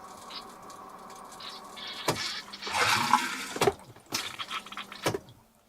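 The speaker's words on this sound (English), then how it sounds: "And the most important thing, toilet flush." An RV toilet flushes with a newly installed water pump, water rushing and splashing into the bowl, then gurgling, with sharp clunks and a running pump whine underneath, close and moderately loud.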